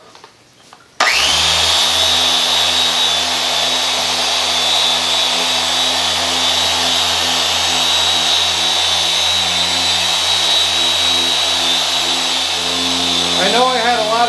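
A power polishing tool buffs polish into a stained tabletop, starting abruptly and running as a loud, steady whirring drone with a constant pitch, with no talking.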